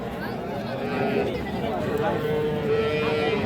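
A cow lows with a long, steady moo at a busy Raniganj cattle market selling dairy cows and calves, heard beneath close-up talk and background crowd chatter.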